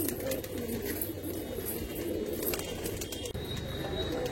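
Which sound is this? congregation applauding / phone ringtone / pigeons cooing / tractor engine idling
pigeons cooing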